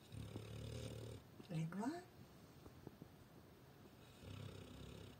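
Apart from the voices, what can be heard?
pet snoring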